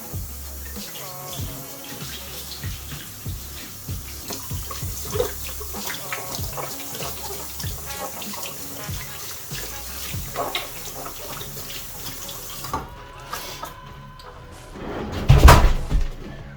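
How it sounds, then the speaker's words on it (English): Tap water rinsing off a glue mask: steady running and splashing with scattered knocks and clatter, then the flow stops and a louder, brief burst of water or handling comes near the end. "And we're going to rinse the rest of it off."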